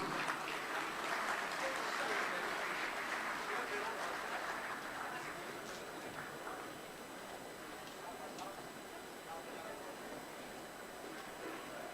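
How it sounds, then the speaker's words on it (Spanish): Audience applause welcoming a doctor onto the stage at a lecture on nutrition in pregnancy and breastfeeding, a steady crowd clapping that is strongest over the first few seconds, then thins and fades to a softer patter. "Demos un fuerte aplauso a la bienvenida"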